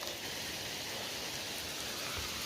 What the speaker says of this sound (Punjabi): ਮੀਂਹ ਇੱਥੇ ਵੀ ਆਉਣ ਲੱਗ ਗਿਆ